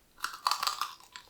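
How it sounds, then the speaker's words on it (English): Someone bites into a crispy vegan meatball wonton, giving a few sharp close crunches in quick succession, then softer chewing, with no talk. "The crunch of the wonton is perfect"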